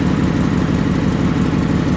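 A small gasoline engine runs steadily after the choke is taken off, a loud, close, continuous rough drone with no pauses.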